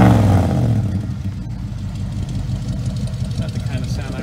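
A 1977 Ford F150 short box engine rumbles at close range, opening with a rev that drops back to a steady, shaky idle, with a voice speaking over it.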